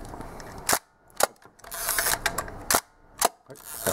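A Hasselblad camera fitted with a Distagon CFi 60mm f/3.5 lens fires its shutter at 1/500 second: several sharp, loud mechanical clicks, close up, with quieter winding and charging sounds in between.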